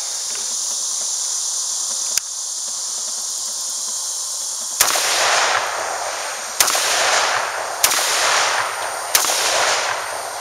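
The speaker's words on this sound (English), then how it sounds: "I'm going to shoot it at these balls." Winchester Model 100 .308 semi-automatic rifle fired outdoors: five sharp, loud shots spaced about one to two seconds apart, the later ones followed by ringing echo over a background of insect chirping.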